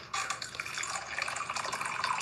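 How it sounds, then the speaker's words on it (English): A dog laps water close by with a steady, busy run of wet splashing and slurping that lasts throughout, with no voices. "Brady, you drink so much water"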